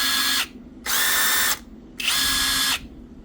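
Hitachi and Bauer 20V cordless impact drivers spinning up in three loud, close bursts, each whirring for about a second with short pauses between, no talk.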